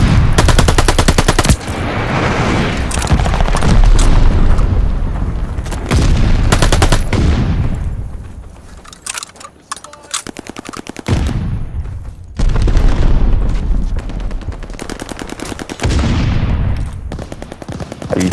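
Sustained, rapid bursts of MG 42 light machine gun fire in the Call of Duty Vanguard video game, loud and close, with a brief lull in the middle before the heavy firing resumes.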